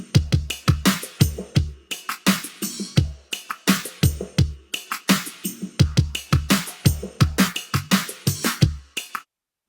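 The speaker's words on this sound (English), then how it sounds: "The drums in this record sound like this soloed." Soloed drum track from a music production, with punchy kick and snare hits in a steady looping groove, loud and dry, no talking.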